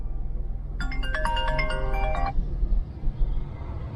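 A mobile phone ringtone chimes a short melodic tune inside a moving car, loud and close for about a second and a half over a steady road rumble.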